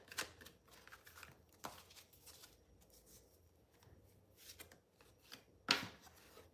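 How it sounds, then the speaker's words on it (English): Tarot cards are shuffled and drawn by hand in a quiet room. Soft papery riffles and slides come in several bursts, ending with one crisp snap of a card. "Let's get some more cards here."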